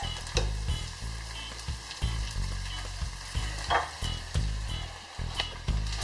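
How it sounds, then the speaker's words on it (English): Ginger and garlic fry in a pan with a continuous sizzle, while thumping stirring strokes and scrapes keep an uneven rhythm, close and with no voices. "You see this ginger and garlic just needs to cook just for a few minutes."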